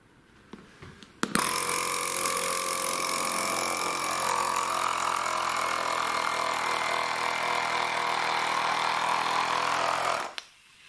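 A cheap tire inflator converted into a vacuum pump switches on abruptly and runs for about nine seconds, a loud steady buzzing motor drone with a rattling mechanical edge, then cuts off, with faint handling clicks before it starts.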